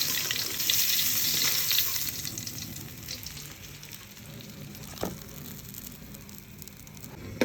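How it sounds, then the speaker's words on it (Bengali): Fish fries in hot oil with a constant bright sizzle that is loudest early and eases slightly later, broken once by a sharp utensil clink, with no voices present. "এখন মাছটা ভেজে নিব।"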